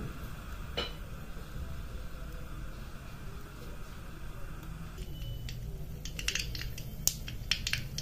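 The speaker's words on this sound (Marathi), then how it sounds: "मोहरी तडतडायला लागली" Mustard seeds spluttering in hot oil while cumin and spices go into a tempering for a village-style spring onion greens dish, giving a steady faint crackle with sharper pops bunched near the end.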